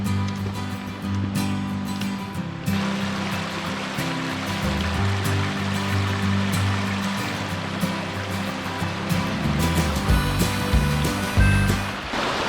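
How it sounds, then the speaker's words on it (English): White Oak Lower Falls, a two-tiered waterfall, roars as a steady broadband rush of falling water, close and continuous throughout. "We have made it to the base of the lower falls."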